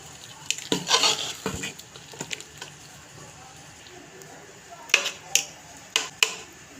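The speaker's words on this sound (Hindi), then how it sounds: "इसे भी इसमें सारी दाल में मिक्स कर देते हैं" A spoon stirs chicken pieces into a pot of mixed lentil dal, making soft scraping and squishing sounds in a few short bursts, with quiet gaps between them.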